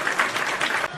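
Applause from a live show audience, a short dense burst of clapping close and fairly loud, cutting off abruptly near the end.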